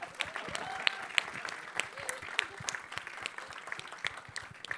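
Audience applause at a Jersey film event, a dense crowd clapping steadily throughout with sharper individual claps popping out and a faint voice briefly audible beneath.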